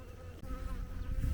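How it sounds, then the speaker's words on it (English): Honeybees swarm around a relocated hive outdoors, a dense steady hum of many wings close by, with no talking. "these bees are all out foraging on their way back right now, and they don't know where to go"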